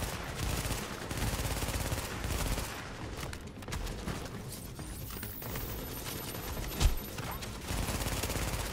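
SMG gunfire in the video game Tom Clancy's The Division, with dense rapid bursts and sustained automatic fire, fairly loud and continuous, with one sharper crack partway through.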